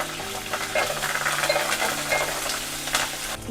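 Curry leaves tempering in hot oil for a cucumber roti pachadi: a sputtering sizzle with bursts of crackle and spatter over a low steady hum, close and fairly loud, no voices.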